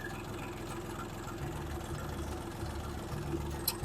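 Kentavr 244SX tractor engine running with four-wheel drive engaged on light snow, a steady low diesel drone with rhythmic pulsing, close and continuous, no talk over it.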